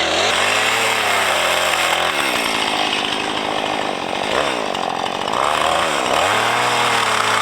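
A chainsaw roars loudly and steadily throughout, its engine pitch dipping and rising a few times as it bogs and revs.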